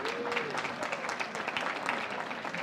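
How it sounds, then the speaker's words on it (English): An audience at a keynote session of a leadership summit claps in a short, steady burst of applause that sounds moderately distant and soft, with no speech over it. "Let's give her another round of applause"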